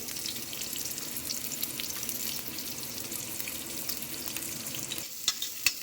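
Onion and garlic fry in oil, a continuous close sizzle and crackle with a few sharper clicks of a utensil near the end and no talking.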